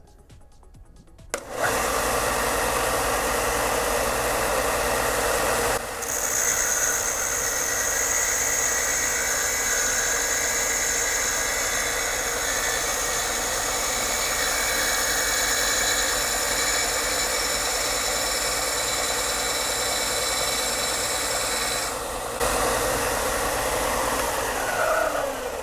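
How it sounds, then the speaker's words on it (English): A spinning disc grinds a bevel along the edge of a piece of Boba Fett armor, giving a steady, loud whirring drone that holds for about twenty seconds after a quieter start, with no talking. "I'll hold it up against this disc while it's turning, and it'll make fairly quick work of this"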